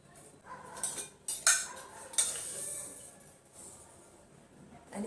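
A spoon clinks and scrapes against a cup while stirring sugar into black coffee, with a few sharp metallic taps standing out over quiet background noise.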